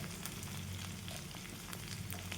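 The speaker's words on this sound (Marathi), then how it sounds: "डाळ वगैरे सगळं छान भाजून घेते" Lentils, cumin, curry leaves and spices dry-roasting in a spoonful of oil in a pan, giving a steady close sizzle and crackle with faint stirring scrapes throughout.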